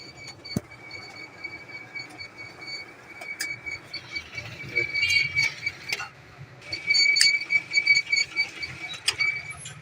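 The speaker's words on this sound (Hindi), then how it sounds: "तो हमारे प्रिंट निकल रहा है, देखें" A Xerox 5755/5855 copier prints pages, with mechanical whirring, clicks and rhythmic paper-feed rattles building in a repeating pattern, close and moderately loud.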